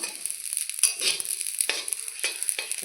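Tulsi Bhog rice and whole cardamom pods fry in a pan with a steady bright sizzle, broken by scraping stirs and light grainy rustles from the spoon.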